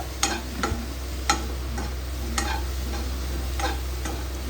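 Cauliflower and capsicum curry sautéing in a pan, a steady low sizzle of frying with a few distinct scraping stirs of a spoon against the pan spaced across the clip.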